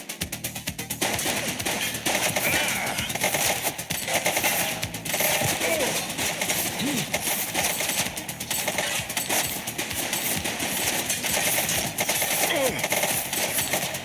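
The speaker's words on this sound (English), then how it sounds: "Shots fired!" Gunfire in the police game The Precinct, fired by a suspect during an arrest, heard as scattered rapid shots over a dense, busy street soundscape, with no clear talk over it.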